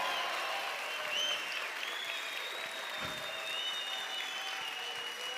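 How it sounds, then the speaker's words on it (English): An audience at a mathematics talk breaks into loud, sustained applause. The clapping fills the room evenly from start to finish. "let's have a big applaud for mathematics"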